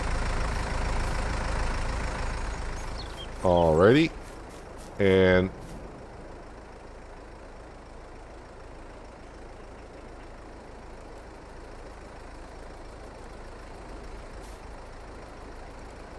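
A tractor engine idles in Farm Sim 22 during yarder logging work, a steady low rumble throughout, broken early by two short rising mechanical whines; someone speaks briefly over it.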